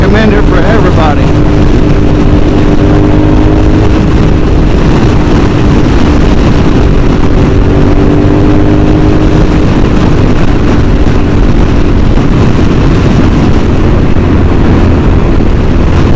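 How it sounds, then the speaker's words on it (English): A Suzuki SV motorcycle being ridden gives a loud, steady engine drone heavily mixed with wind buffeting across the microphone, sustained without a break. "riding a bike. So much fun."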